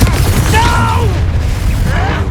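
A booming explosion from the Confringo spell in the Hogwarts Legacy video game, a loud low burst followed by swirling magical effects, set among battle sounds.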